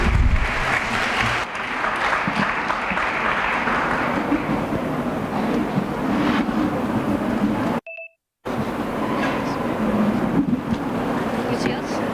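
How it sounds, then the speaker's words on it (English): An audience applauds at a school event in Gulbarga, a loud sustained clatter of many hands that runs for several seconds, breaks off in a short dropout, then carries on at the same strength. "A big round of applause, please."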